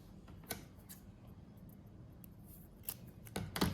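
Scissors snip through paper while a math lesson on composite figures is underway, a few sharp, quiet, irregular cuts close by with soft rustling between them and no talking.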